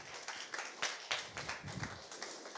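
An audience at a startup pitch event applauds, with steady crowded clapping at moderate distance and a few sharper individual claps standing out.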